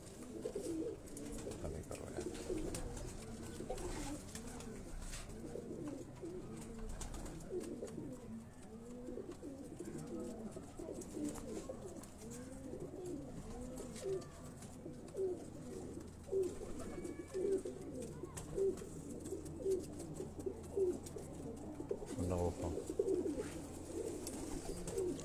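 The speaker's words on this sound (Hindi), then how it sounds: "ये दोस्तों ये परवाजी कबूतर हैं" Flying pigeons kept on a rooftop in Jalalpur Bhattian coo repeatedly in soft, rolling calls from several birds at close to moderate range, continuing throughout with occasional low background noise and a brief voice.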